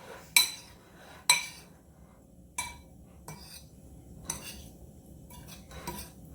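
Berry crisp mixture with vanilla tossed in a bowl for two, a few sharp clinks of a utensil against the bowl separated by quieter soft stirring, fairly close and with no talk.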